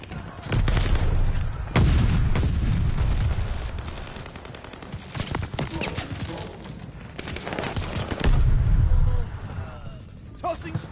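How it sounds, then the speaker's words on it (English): Stun grenade thrown and bursting in Call of Duty, with loud booming blasts and gunfire in two heavy bursts amid a busy combat mix, with voices talking over it. "Throwing stun grenade!"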